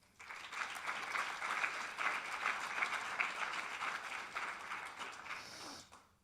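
Audience applause for the keynote speakers and other speakers at the close of a Sunday conference session, a steady mid-level burst of many hands clapping that swells quickly, holds for several seconds, then tapers off.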